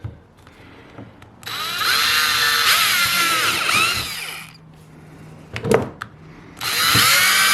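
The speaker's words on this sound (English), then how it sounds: "Let's drill these last two holes." A power drill whines loudly in two long bursts drilling holes in a kayak to mount tracks, its pitch wavering as it bites, with a short clunk and quiet pause between them.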